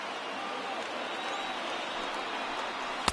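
A packed stadium crowd of tens of thousands on its feet in MLB The Show 20, Yankees versus Mets, roaring as a steady loud wash of cheering with a voice briefly on top.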